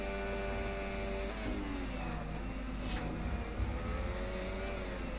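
Racing car engine on a push lap at Mexico in a racing video game, a steady, droning high-revving whine with gear-change pitch shifts, held at moderate level under faint background noise.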